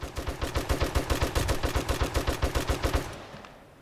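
Automated turrets in the video game 7 Days to Die fire a rapid, even stream of about twenty loud punchy shots that stop abruptly and leave a brief fading tail.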